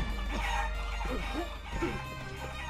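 Skeleton chickens in the video game Guacamelee cluck in a few short, scattered calls over a steady game backdrop with background hum.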